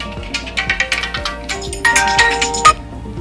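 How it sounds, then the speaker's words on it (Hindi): A mobile phone rings in a quiet room, its ringtone a loud, bright series of repeated melodic tones that swell into a sustained final burst, with no talking over it. "फोन बज रहा था"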